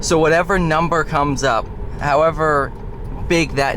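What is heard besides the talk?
None of the usual background noises is heard.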